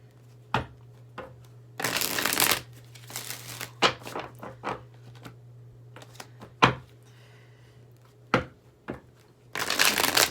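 Tarot cards are shuffled by hand during a reading, with several separate riffling bursts set apart by pauses and soft taps, all close and clear.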